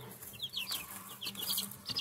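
Free-range barnyard-mix chickens, hens and roosters together, cluck in short bursts at moderate distance, with soft scratching and rustling underneath and no voices.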